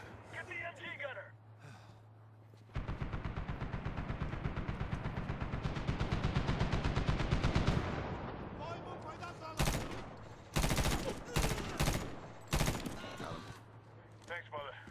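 Rapid machine gun bursts in a video game firefight, a long rattling volley followed by several short sharp bursts, heard under shouted voices.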